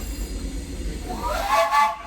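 Disneyland Railroad steam train running on its grand circle trip, a low rumbling roll followed by a rising whistle-like tone that swells near the end, fairly loud and close.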